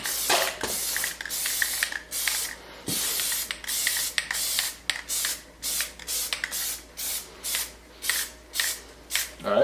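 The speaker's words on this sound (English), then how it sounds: "Just start spraying lightly and it'll gradually build up." An aerosol can of Plasti Dip sprays onto car wheels in a steady series of short, hissing bursts, evenly spaced and fairly close, each puff stopping cleanly before the next.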